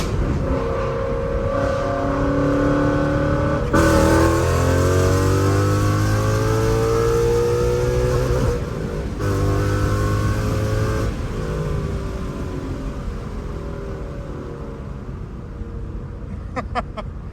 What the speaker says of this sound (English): I'm sure you guys were able to get a little gist of the sound